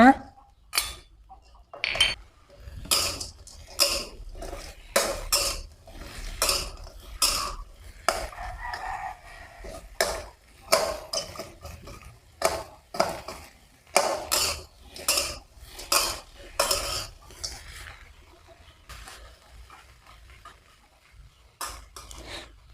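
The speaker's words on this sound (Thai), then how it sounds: "ผัดไปเรื่อยๆนะคะ ประมาณ 5-6 นาทีนะคะให้ กระเจี๊ยบของเราเริ่มสุกเนาะ" Okra and garlic stir-fry in a pan with repeated sharp clacks and scrapes of a spatula against metal, coming in quick uneven bursts with short pauses, close and clear, and a rooster crows faintly in the background.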